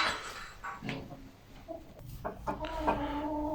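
Red Blue Wyandotte chickens in a coop cluck and murmur at close range in short repeated calls, over a steady low background hum.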